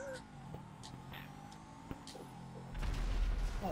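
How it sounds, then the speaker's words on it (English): A blast in the GTA V Online racing game on a dock race course, a louder low rumbling burst arriving late after steady car engine drone and game sounds, with no one speaking over it. "now I hear the explosion"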